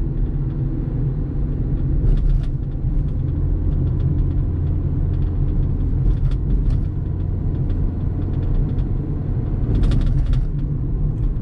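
A Hyundai Accent engine struggles to accelerate in third gear, a steady loud low droning rumble from inside the moving car with a few brief rattling clicks, no talk.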